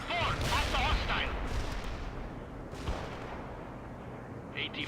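Missile launches and gunfire rumble through a battle in World in Conflict during a Soviet assault, a dense, loud barrage of booms and crackling shots with a brief radio-style voice over it early on.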